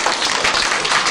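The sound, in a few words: audience applauding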